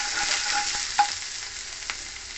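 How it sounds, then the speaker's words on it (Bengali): Green chillies fry in hot white oil alongside grated ginger for a tofu vegetable stir fry: a continuous close sizzle broken by a few sharp clinks of stirring, with no voices. "কাঁচা লঙ্কা দিয়ে দিলাম।"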